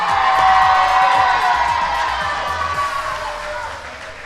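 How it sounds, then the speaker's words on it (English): A live crowd at a Packers fan event cheers and whoops loudly, the roar swelling early and then slowly fading, with scattered shouts in the mix. "somebody from your team is cheering for Keisean right now"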